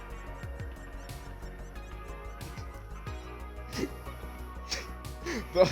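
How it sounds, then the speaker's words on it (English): Game birds chirp in SnowRunner's Alaska map, faint scattered calls over a low ambient hum that grow somewhat louder toward the end. "Those bird sounds are in lieu of crickets."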